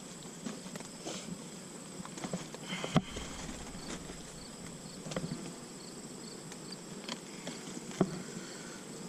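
Honeybees fly around their hive outdoors, giving a faint, steady insect hum with scattered light ticks and taps and no voices.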